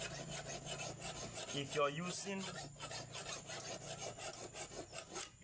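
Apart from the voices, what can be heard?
sharpening a machete blade for palm harvesting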